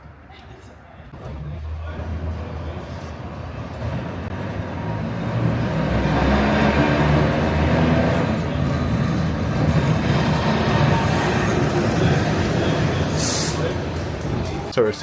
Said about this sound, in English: So we're sitting on a tram that was built in 1914, so over 100 years old.